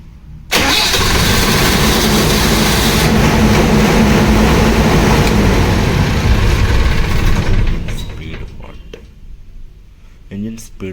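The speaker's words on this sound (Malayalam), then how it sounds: "നമ്മൾ എൻജിൻ കൺട്രോളർ ഓണാക്കിയിട്ട് സ്റ്റാർട്ടാക്കി കഴിഞ്ഞിട്ടുണ്ടെങ്കിൽ" A Kirloskar diesel generator engine cranks and fires with a sudden loud roar that holds steady for several seconds, then drops off and winds down, leaving faint clicks and quieter machinery.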